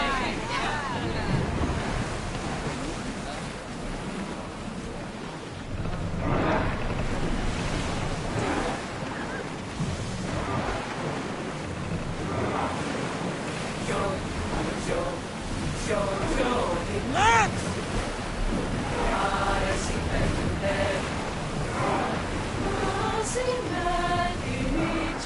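A sailing ship moving across ocean waves in Assassin's Creed Odyssey: a continuous, dense wash of surf and wind-like rushing, with faint voices and game sounds mixed in underneath.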